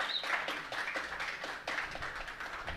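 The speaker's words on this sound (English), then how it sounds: "Let's give him a round of applause." A concert audience applauds a jazz trio's guitarist, a steady patter of many hands clapping at moderate distance throughout, with no voices over it.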